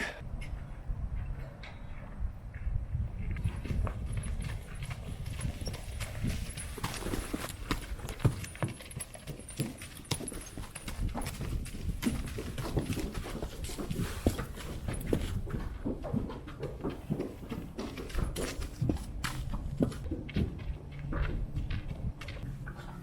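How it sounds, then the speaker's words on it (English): Steady clip-clop of hooves from several horses walking in for afternoon feeding, a continuous busy patter of hoof falls on a hard surface, fairly close, with no talking. "see the horses coming in for the afternoon feeding"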